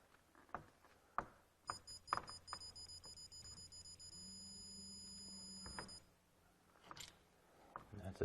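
A digital torque wrench sounds a steady high-pitched beep for a few seconds as it reaches its set torque on a 1/4 inch flare fitting during a GREE single-zone mini-split installation, among clinks and tool-handling noise.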